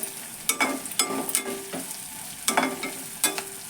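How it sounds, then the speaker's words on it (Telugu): Onion frying in a pan for vegetable semiya pulao: steady sizzle punctuated by about half a dozen sharp spatula strikes and scrapes against the pan at uneven intervals, close and fairly loud, no speech. "ఉల్లిపాయ ఇట్టే ఫ్రై అయిపోద్ది"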